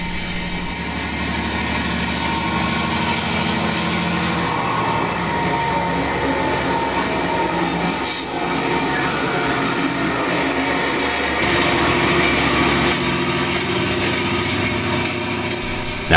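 A GP38 diesel locomotive pulling off the ready track at an engine yard: a steady, loud engine rumble and rail noise that holds constant throughout, with no voices.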